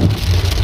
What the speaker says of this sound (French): Il y a de la grêle là.